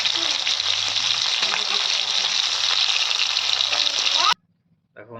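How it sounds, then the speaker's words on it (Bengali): Fish fries in hot oil in a pan, a loud, dense, steady sizzle with occasional pops that cuts off abruptly near the end, leaving near silence and a faint noise. "দেখো বন্ধুরা, মাছ ভাজা হয়ে গেছে"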